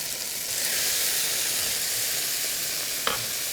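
Garlic sizzles in hot oil in a pan while mussels with tomato and fennel are being cooked, a loud, steady frying hiss with a brief clink near the end.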